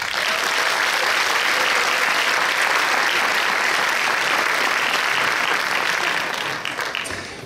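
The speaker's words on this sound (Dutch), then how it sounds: "Graag uw applaus, Annick." Sustained, loud audience applause at a Miss Fashion pageant, with dense, even clapping that holds for several seconds before tapering off at the end.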